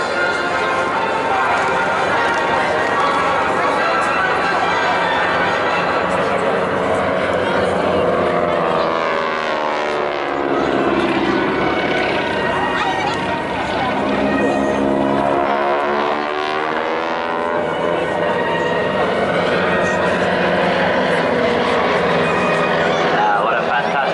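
The engine of a wingwalking display aircraft at the Bournemouth Air Festival drones loudly and steadily. Its tone slowly rises and falls through sweeping shifts across the whole stretch.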